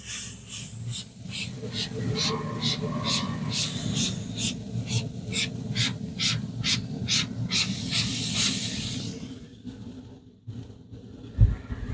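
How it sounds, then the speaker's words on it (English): Brisket sizzling in a backyard smoker, a continuous hiss with rhythmic pulses of steam, fairly loud and close, cutting off near the end followed by a thump. "nice sizzling"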